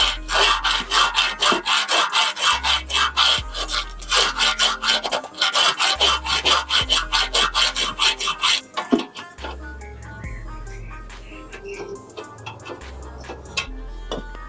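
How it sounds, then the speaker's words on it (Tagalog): A hand file works over a part from a vintage 1980s Yamaha DT125 two-stroke motorcycle, with quick, regular rasping strokes up close that give way to slower, scattered scraping and light knocks. "Gagamit tayo ng kikil."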